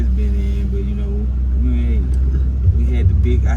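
Car engine with a swapped-in LS V8 idling steadily and loud throughout, low rumble in front, while someone talks over it.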